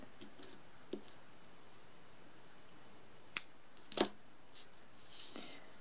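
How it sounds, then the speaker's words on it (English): Scissors snip a strand of crochet thread at the end of a cord, a few faint, crisp clicks scattered over near-silence, with two sharper cuts close together near the end. "Now your packing cord is secured and you can cut this strand"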